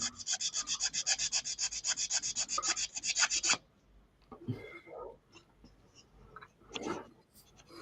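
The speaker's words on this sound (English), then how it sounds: "I'm sanding." A model kit sanded by hand with a sanding block: a steady, rapid back-and-forth rasping stroke repeated about twenty times, close and loud, then stopping, followed by faint handling noises.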